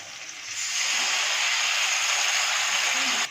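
Water pours or sizzles over tomatoes in a pan while curry cooks. The sound is a loud, steady, hissing rush that lasts about three seconds and starts and stops abruptly.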